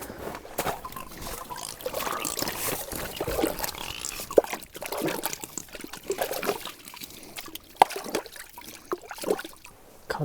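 A lake trout goes back into the water through a hole in the ice, with close, irregular splashing and trickling that rises and falls over several seconds.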